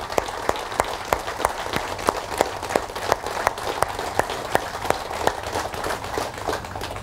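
An audience at an indoor motivational talk breaks into sustained applause, a steady wash of many hands clapping together with a few sharper claps standing out.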